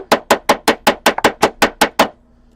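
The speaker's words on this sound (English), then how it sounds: "all the hammering is going to warp your metal" A quick run of about a dozen sharp metallic strikes from the round face of a hammer texturing a metal spiral jewelry piece, at a steady pace, close up and loud, ending abruptly.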